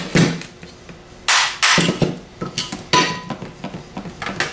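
Metal tapping while removing the stator from a CS144 alternator during a rebuild, a series of sharp clanks and clinks at irregular intervals, close and fairly loud, with a few bigger knocks followed by lighter taps.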